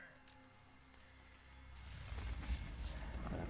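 Cannon fire in the strategy video game Total War: Warhammer 2, aimed at a fortress wall: a quiet opening gives way to a dense, rumbling barrage of deep booms that swells and stays loud to the end.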